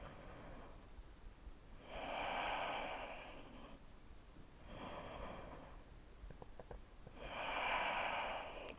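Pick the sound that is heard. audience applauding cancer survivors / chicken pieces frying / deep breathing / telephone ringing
deep breathing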